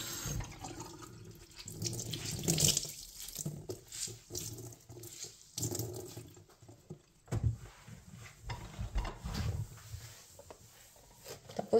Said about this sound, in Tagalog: Kasi part yan ng lababo, be. Tapos banlawan mo rin siya.